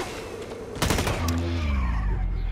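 Light machine gun firing in the video game Blacklight Retribution, a loud rapid burst of automatic shots lasting about a second, followed by a lingering low rumble and whine.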